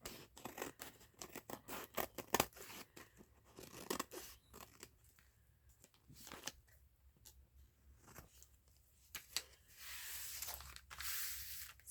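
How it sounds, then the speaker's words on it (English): Shears being wiped clean with alcohol pads at a craft table while junk journal covers are made from padded envelopes; a run of close, crisp rustling, tearing and rubbing bursts, on and off, with no talking. "To get my little alcohol pads out and clean these shears off"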